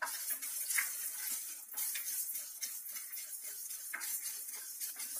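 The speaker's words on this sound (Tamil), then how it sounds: "கடுகெல்லாம் ரொம்ப வறுக்க வேண்டாம், இப்படி போட்டோம்னா படப்படன்னு வரும்" Mustard seeds fry and pop in hot oil in a pan while making a coriander thokku, with light crackling and scattered sharp pops over a steady quiet sizzle and occasional clinks of a utensil.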